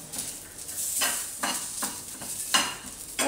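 Garlic and ginger hit frying onion and sesame in a pan for Maharashtrian stuffed eggplant masala, giving a close, soft sizzle broken by about five rhythmic scraping stir strokes.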